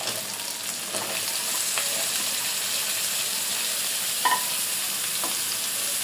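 Eggplant frying in a pan with dried fish, garlic and spices, a steady close hiss and sizzle running throughout with a few soft stirring scrapes, no talking.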